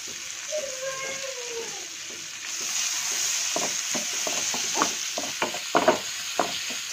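Garlic frying in a pan for a paneer cashew butter masala curry, a soft hiss with gentle sizzling, then faint clicks and stirring taps toward the end.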